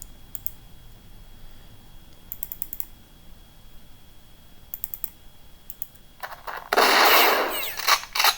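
Gunfire in the tactical game Jagged Alliance 2 during a nighttime battle: a few short, clicky bursts early on, then a louder, sustained crackling volley near the end, without any talk.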